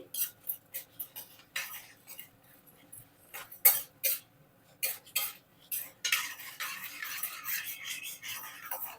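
Spices being fried in oil in a pan until golden, for pulihora, with a run of close, uneven scraping and clinking strokes from a metal spoon against the pan and steady gentle rattling, no voices.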